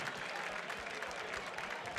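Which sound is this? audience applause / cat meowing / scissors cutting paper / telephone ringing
audience applause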